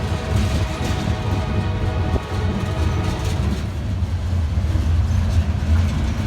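A heavy, loaded CSX freight train rolls steadily across a welded-rail bridge over the Wabash River, giving a continuous low rumble and wheel roar with no rhythmic joint clacks, loud and close throughout.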